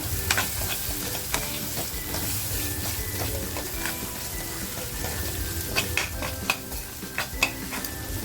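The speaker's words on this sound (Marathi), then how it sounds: "आणि छान फ्राय होऊन देते" Tomato and salt fry in a pan during preparation of a mackerel dish. A steady sizzle sounds throughout, with repeated scraping and clinking of a spoon as the food is stirred, and no talking.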